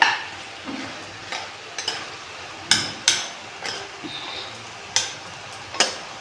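Whole, uncut coriander leaves frying in a pan for ridged gourd chutney, with a spatula scraping and knocking against the pan in irregular sharp taps over a faint sizzle.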